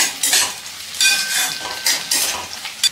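A spoon stirs whole spices and four to five chopped green chillies in a hot pan for vegetable pulao, giving several separate scraping, clinking strokes over a light sizzle, close and alone.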